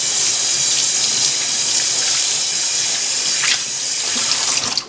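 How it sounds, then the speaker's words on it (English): Tap water runs steadily into a sink, rinsing a dyed golf disc, a continuous close splashing rush with no voices. "get it under the running water"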